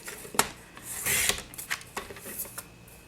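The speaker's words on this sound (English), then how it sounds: "We also have this envelope liner that comes with the kit, and we're going to trim that one also" Paper envelope liner from a card-making kit being trimmed, a series of short scraping and slicing strokes with a longer rasp in the middle, close and fairly quiet.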